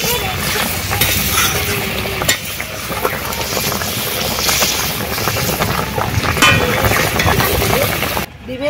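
Fried eggs dropped into boiling water in a pan in a village kitchen: steady loud bubbling and sizzling with stirring scrapes throughout, close by.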